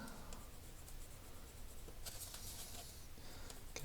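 Pencil strokes rapidly marking up a relay computer backplane board, a steady close scratchy patter of short strokes running throughout, no talking.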